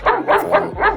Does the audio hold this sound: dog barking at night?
yes